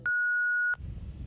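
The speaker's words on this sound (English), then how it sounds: "Leave me a message at the beep." A voicemail answering machine gives a single steady electronic beep, clear and close, lasting about two-thirds of a second before a voice starts speaking.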